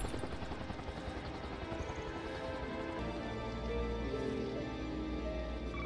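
A helicopter thumps with rapid rotor chop throughout a film action scene, a loud, continuous whirring drone without any talk.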